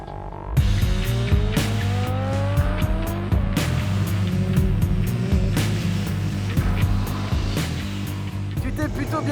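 Motorcycle engine revving and shifting through gears on a race circuit, loud and close throughout, with rising and falling pitch sweeps and possible tire noise.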